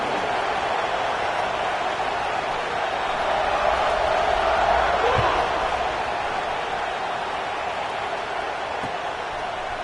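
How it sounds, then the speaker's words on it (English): Stadium crowd roars as an American football team kicks off, a broad sustained wall of cheering, with a commentator talking over it. "this crowd now ready to get behind them"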